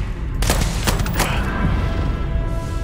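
Pistol gunfire in Starfield, a few loud sharp shots in quick succession followed by a rumbling tail and lingering combat noise.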